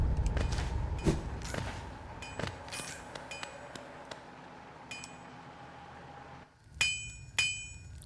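Metallic hammer strikes from the nailsmith in the video game Hollow Knight ring out in a few sharp, clinking hits, separated by pauses, over a low ambient game background.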